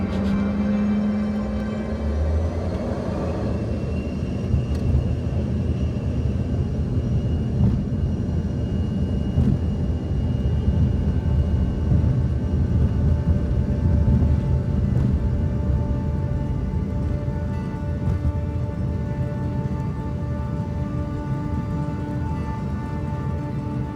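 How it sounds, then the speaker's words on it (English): Inside an airplane taking off from Glasgow International Airport, a steady deep engine rumble and roar fills the cabin and builds slightly as the aircraft accelerates. "Taking off out of Glasgow International Airport, we begin our 1-hour flight over to Benbecula in the Outer Hebrides."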